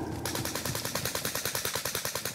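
Rapid automatic gunfire in a battle royale video game, a close, loud, evenly spaced stream of about twenty shots filling the whole stretch after a brief opening.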